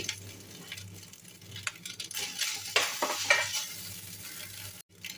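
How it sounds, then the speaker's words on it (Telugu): Cooked rice being stirred into freshly fried grated coconut in a pan: soft scraping stir strokes over a low sizzle, fairly quiet and close, with no talking. "ముందుగా మనం చేసుకున్న అన్నాన్ని ఇందులో వేసి కలుపుకోవాలి."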